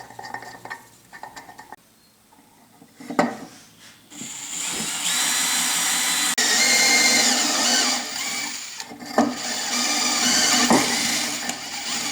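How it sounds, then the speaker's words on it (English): A power drill whines in bursts that start, stop and restart, its pitch steadying under load as it drills out a metal sleeve on a Yates American B244 machine's flat belt pulley, with brief clicks between runs. "I need to drill out and tap the sleeve on each side"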